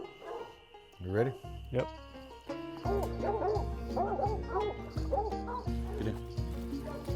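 Coon hunting dogs being loaded for a raccoon hunt bark repeatedly in loud, close bursts, mixed with whimpers and yips, while a couple of people exchange a few words.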